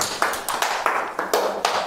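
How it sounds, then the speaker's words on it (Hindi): A small group in an acting workshop claps for a student, about seven distinct, evenly spaced claps in a quick rhythm, fairly close and clear, without speech. "क्लैप फॉर हर, ताली बजानी चाहिए इसके लिए"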